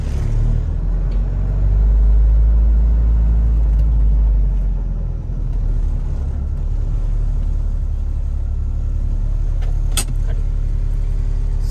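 A car driven on local roads in Tamil Nadu, heard from inside as a loud, steady low engine and road rumble that swells slightly early on, with a single sharp click near the end.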